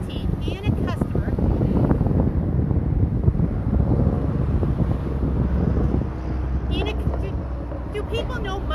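A loud vehicle with no muffler passes close by, its heavy broadband rumble steady for several seconds and deepening near the end, while a person talks over it.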